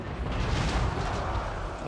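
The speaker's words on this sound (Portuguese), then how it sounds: "É estranho esse barulho para um canhão" A cannon fires in the battle game Total War: Warhammer 3, giving a loud, dense, rumbling blast that fills the short moment with broad noise.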